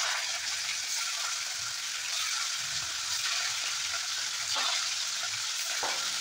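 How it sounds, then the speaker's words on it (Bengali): Spiced chicken pieces fry in hot white oil in a wok, producing a continuous, fairly loud sizzle with occasional stirring scrapes and small pops. "এবার আমি চিকেন ভেজে নেব।"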